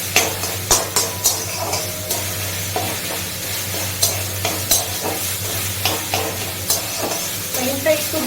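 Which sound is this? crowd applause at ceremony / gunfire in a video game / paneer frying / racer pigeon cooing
paneer frying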